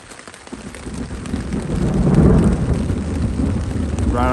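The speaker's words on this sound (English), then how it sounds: "Well, things have escalated. Getting some thunder." Thunderstorm in a mountain basin of the Wind River Range, Wyoming, with steady rain drumming and a deep rolling rumble of thunder swelling midway, loud and close, with no voices.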